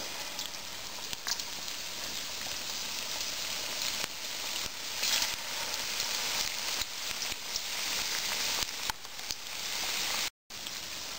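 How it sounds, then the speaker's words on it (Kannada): Spinach pakora batter frying in hot oil, a steady dense sizzle and crackle that continues without a break, close and even, with no talk. "ಕಾದಿರುವ ಎಣ್ಣೆಯಲ್ಲಿ ಸ್ಪೂನ್ನಿಂದ ಮಿಶ್ರಣವನ್ನು ನಿಧಾನವಾಗಿ ಹಾಕಿ ಕರಿಯಬೇಕು"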